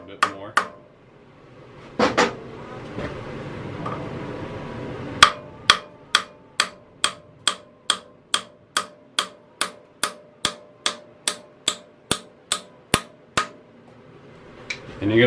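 A metal hammer taps on an engine valve in the cylinder head of a Planet Jr. HT tractor, a few scattered knocks followed by a long, even run of about twenty sharp, ringing metallic taps at a steady rhythm, close and clear.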